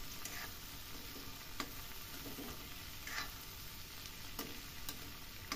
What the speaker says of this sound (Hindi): देखिए मिक्स कर देती हूँ अच्छे से।